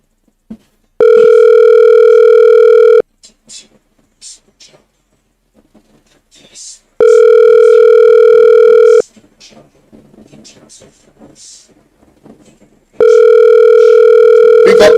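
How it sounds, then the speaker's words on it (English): An outgoing phone call rings back in three long, loud, evenly spaced tones, separated by pauses in which faint rustling and brief voice fragments occur. "I call somebody right now."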